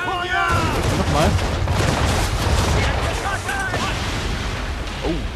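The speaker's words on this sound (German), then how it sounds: "Oh, da ist was explodiert," Naval cannons boom in the Assassin's Creed 3 video game, a dense barrage of heavy blasts and an explosion rolling together, with a voice and game voices speaking over the gunfire.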